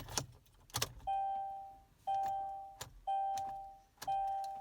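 A car whose starter has been disabled by a GPS tracker fails to start: two key-turn clicks and jangles, then four repeated electronic chimes or buzzes about a second apart, each one rising sharply and fading, close and fairly quiet with no talking.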